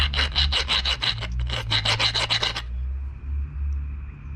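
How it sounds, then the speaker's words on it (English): Metal file rasped against a blacksmith's swage block: a quick run of steady rhythmic strokes, close and loud, that stops abruptly into quiet room noise. "If I rub the file on here, does it grind away?"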